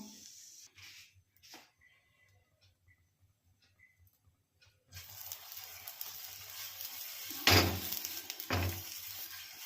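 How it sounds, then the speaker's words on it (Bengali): Oil being rubbed across a hot pan with an eggplant stem in a home kitchen, a soft sizzle and scraping patter starting about halfway through, with a brief louder flare of frying near the end. "বেগুনের বোটা দিয়ে তেল দিয়ে নিলাম"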